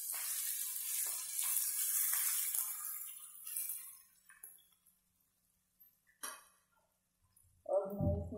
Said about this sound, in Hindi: इसको गोल्डन ब्राउन होने तक भूनेंगे।